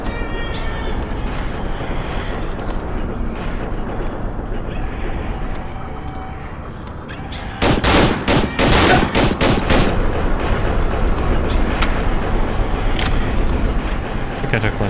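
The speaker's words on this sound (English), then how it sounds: "I'm gonna shoot him quick." A quick string of loud gunshots in the horror game Cry Of Fear, about half a dozen sharp cracks fired in rapid succession midway through, set against steady game ambience and voices.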